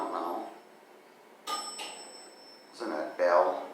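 A 1939 Pittsburgh elevator in an abandoned hospital chimes its bell, two bright dings ringing out near the end after softer ding-like tones midway, with faint speech at the start.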